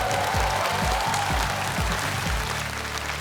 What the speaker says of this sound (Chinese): 掌声再次送给小飞